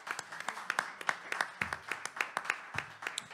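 Conference audience at a 2022 political colloquium gives a short round of applause, a dense burst of scattered hand claps heard at moderate volume.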